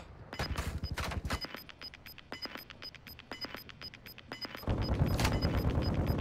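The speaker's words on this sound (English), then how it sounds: "I'm shooting" Gunfire in the video game Call of Duty: Modern Warfare II, sharp rapid bursts of shots in quick succession, then scattered single cracks, then a louder sustained volley near the end.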